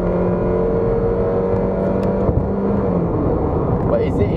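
A Kia Cerato sedan with a 1.6-litre 130 PS engine driven fast, giving a steady loud cabin drone of engine and road noise with someone talking over it throughout.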